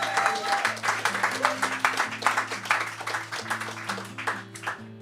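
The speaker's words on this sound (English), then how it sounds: "I want to hear a great big round of applause for Morag Butler" An audience applauds steadily at a folk music event, with moderate clapping under sustained musical tones.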